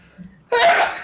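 A single sharp human sneeze, close and loud, bursting out after a brief quiet intake of breath.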